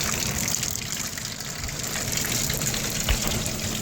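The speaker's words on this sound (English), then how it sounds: "Pumps water up to the spider and pumps water so it comes back down like that." The water pump of a swamp cooler circulates water up to the distributor and lets it run back down over the pads, making a steady, close, full rushing and splashing gush that continues evenly throughout with no talk.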